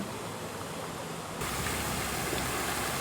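Steady broadband rush of creek water flowing near a peaceful campground, continuous and fairly close, growing fuller partway through with no pauses or voices.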